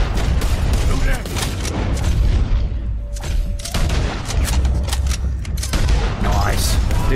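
Red Dead Redemption 2 shootout with loud, booming gunshots in irregular bursts, close and heavy, while characters talk over the fighting.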